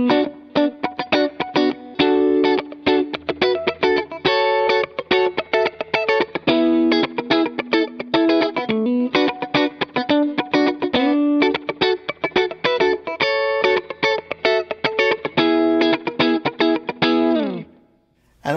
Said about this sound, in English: it has the classic kind of out of phase Strat sound as well